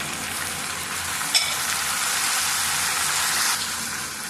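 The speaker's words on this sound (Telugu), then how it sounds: "ఇప్పుడు టమాటా ముక్కలు కూడా కట్ చేసి పెట్టుకున్న కూడా వేసేసేయాలండి" Chopped tomato pieces for tomato pickle hit hot oil in a frying pan, setting off a loud, steady sizzling hiss with a sharp clatter as they drop in.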